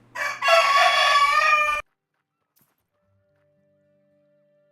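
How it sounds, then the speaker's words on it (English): One loud, nearby rooster crow, a long sustained call lasting under two seconds, ends sharply and gives way to near silence. "that maniac rooster of mine"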